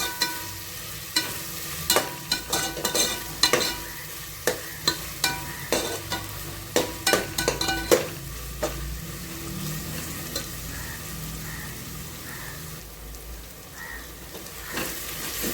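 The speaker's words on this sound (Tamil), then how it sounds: "வெங்காயம் நல்லா வதங்கணும்." Onions fry in a pan with ginger garlic paste as a steady sizzle, while a spoon scrapes and stirs in a run of regular knocks that later ease off, leaving the frying alone.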